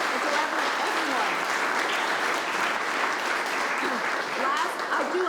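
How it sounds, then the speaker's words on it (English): Audience applause fills a graduation ceremony hall, dense and steady for the whole stretch, with voices mixed into the crowd noise. "Let's give a round of applause to you all and to everyone."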